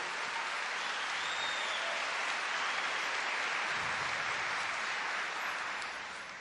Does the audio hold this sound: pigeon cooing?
no